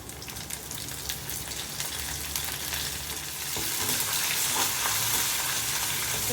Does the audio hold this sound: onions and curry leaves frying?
yes